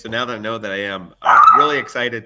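A pet dog barks and yelps in short excited bursts indoors, close and loud, mixed in with someone talking.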